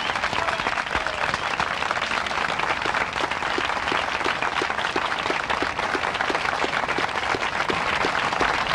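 Sustained audience applause for Charles Mingus at the White House jazz festival, many hands clapping steadily in a dense, even wash that continues throughout without pause.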